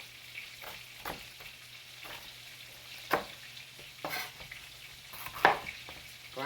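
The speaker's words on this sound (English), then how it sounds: "Ground beef is cooking" Ground beef frying in a pan for Salisbury steak patties, a low steady sizzle broken by sharp scraping and stirring clicks from a utensil, close and with no voices.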